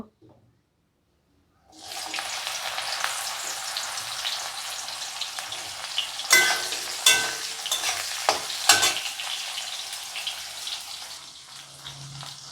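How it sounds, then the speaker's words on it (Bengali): Bitter gourd dropped into hot oil in a wok after frying lentil dumplings, starting with a sudden loud sizzle that stays steady and close, with sharper crackles and spatters from stirring. "এখন আমরা বড়ি ভাজা এই তেলের মধ্যে উচ্ছেটা দিয়ে দেব।"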